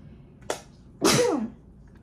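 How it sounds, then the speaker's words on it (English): A woman sneezes indoors during a makeup routine: a short catch of breath, then a loud, close burst that trails off over half a second, alone with no talk. "I gotta sneeze, sort of."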